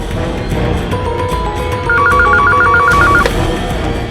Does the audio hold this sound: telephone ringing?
yes